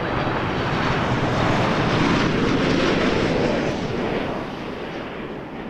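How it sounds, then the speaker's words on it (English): An Air Canada Boeing 737 Max 8 arriving from Quebec City at Toronto Pearson Airport, a loud steady jet roar that holds broad and full before easing slightly in the final seconds. "That was Air Canada 1101 coming in from Quebec City on a Max 8."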